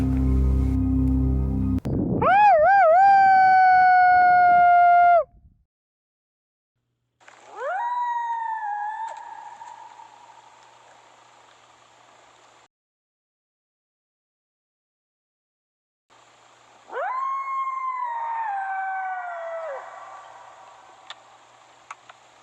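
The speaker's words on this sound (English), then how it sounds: "listen while the coyotes howl. And they go, woo yip," Long, wavering howls rise and fall in three separate drawn-out calls with silent gaps between them, clear and isolated against a quiet night background, attributed to coyotes.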